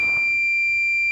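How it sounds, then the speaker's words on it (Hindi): A homemade water level indicator's buzzer sounds as the tank fills, a loud, steady, piercing electronic tone holding unbroken for the whole moment. "चौथा लेवल पे हमारा बजर बार यानी टंकी फुल होगा तो बजर बार चालू हो जाएगा"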